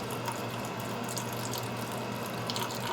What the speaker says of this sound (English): we'll just pour all the chicken broth in